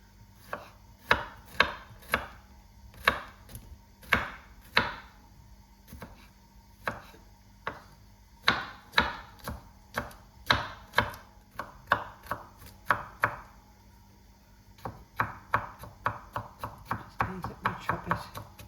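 A knife chops garlic on a cutting board for spaghetti bolognese: close, sharp taps in uneven bursts, sometimes slow and spaced, sometimes quick runs, with short pauses between them.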